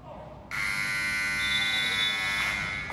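A loud electronic basketball end-of-quarter buzzer sounds abruptly and holds for a couple of seconds over faint crowd noise.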